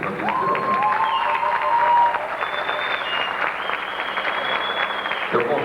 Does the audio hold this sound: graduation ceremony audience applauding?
yes